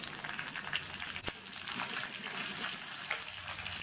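Slit green chillies, dry chillies and lentils sizzle and fry in a pan, a steady crackling hiss close by with a few scrapes of stirring, no talk.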